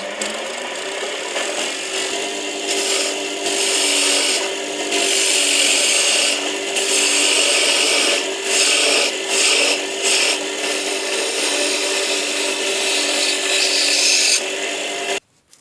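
Wooden tool handle spinning on a wood lathe at raised speed while a chisel cuts it, giving a steady, loud, continuous scraping hiss with brief dips as the tool lifts, alone without talk.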